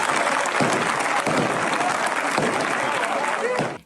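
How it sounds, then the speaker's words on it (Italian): A crowd of faithful at a Sicilian religious procession applauds in relief after a heavy candle structure falls among them without injuring anyone, a steady, dense wash of clapping heard from a distance that holds throughout and fades at the end. "Quindi l'applauso liberatorio dei fedeli."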